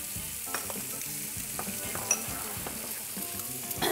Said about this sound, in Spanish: Y ahora vamos a hacer un huevito frito.